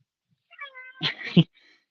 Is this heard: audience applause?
no